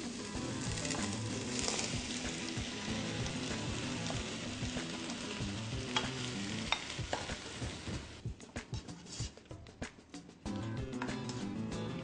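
Garlic and vinegar sizzling in a pan as a kilo of coarsely chopped tomatoes is added, with steady frying crackle and stirring scrapes throughout. The sizzle briefly thins out near the end before picking back up.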